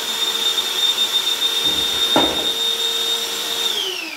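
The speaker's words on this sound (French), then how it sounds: "Je vais pouvoir ventouser et venir percer avec mon perforateur." A Bosch 18V SDS Plus rotary hammer drills into metal while a suction attachment holds on, making a loud steady whining drone with a brief rougher burst midway.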